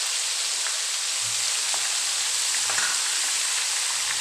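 Ginger, garlic and green chillies frying in a large quantity of oil for chicken biryani, giving a steady close sizzle with a few soft stirring knocks, no talk.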